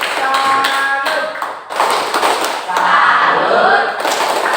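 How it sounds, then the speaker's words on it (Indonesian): A classroom of students performs a rhythmic salute clap, sharp claps and thuds in short bursts, with voices chanting and talking over them, fairly loud and close. "Kita berikan dulu aplaus kepada kelompok bilangan dengan tepuk salut."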